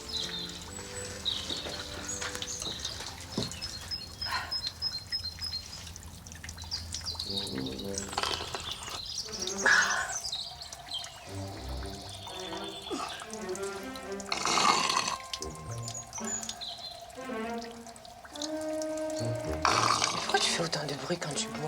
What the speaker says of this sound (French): avec ce petit filet d'eau qui coule, là